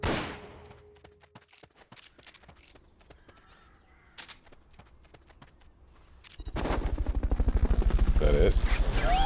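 Rapid gunfire in Metal Gear Solid: Peace Walker crackles in a steady stream, growing into a louder, denser burst of automatic fire toward the end.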